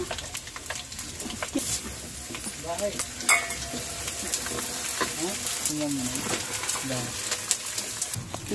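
Sutkeri masala spices frying in a pan give a continuous loud sizzle with stirring scrapes and clinks throughout, heard up close while people talk over it.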